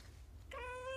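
A young foster kitten gives a single short, clear meow near the end, close and fairly quiet against a low household hum.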